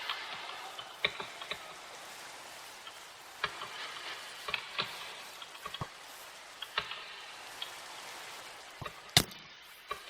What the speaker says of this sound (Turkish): Of yağmur başladı ya.